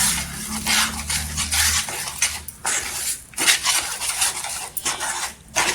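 Pumpkin halwa ingredients are mixed in a kadhai on an unlit gas stove, giving repeated scraping and clattering strokes of a spoon against metal, close and uneven, with a low hum under the first two seconds.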